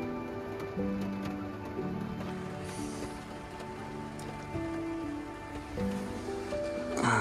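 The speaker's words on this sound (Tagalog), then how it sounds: "Bumuhos yung ulan." Heavy rain pouring steadily at a roadside cliff camp in the Cordillera, a dense continuous hiss of drops drumming on surfaces, likely heard from inside a van, with a louder swell near the end.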